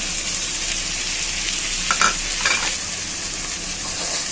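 Fish heads being stirred in a pan with chopped tomato and ginger-garlic, onion and coriander pastes, giving a steady frying sizzle with a few soft scraping strokes near the middle, no voices.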